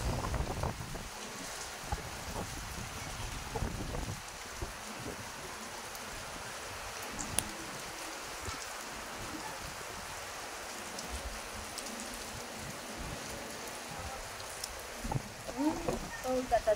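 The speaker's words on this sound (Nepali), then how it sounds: "चारैतिरबाट पानी पर्यो।" Rain falls all around a rooftop vegetable garden, a steady broadband wash with wind buffeting the microphone and occasional brief knocks, continuing throughout at moderate loudness.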